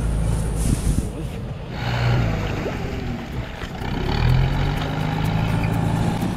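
A farm tractor's engine drones while working a flooded rice field in the rural Philippines, a steady rumble that rises and falls in waves, with voices faintly underneath.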